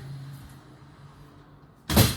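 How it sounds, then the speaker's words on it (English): A front door is pushed shut with one solid thud, loud and close, after a stretch of low traffic rumble from outside. "just had to shut the front door because of traffic"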